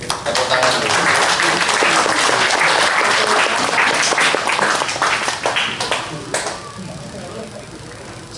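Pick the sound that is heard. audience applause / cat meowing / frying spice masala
audience applause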